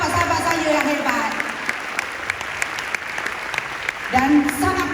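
An audience at a recognition event applauds, with dense clapping that stays steady across the stretch and then swells again near the end, while voices can be heard beneath and around the clapping.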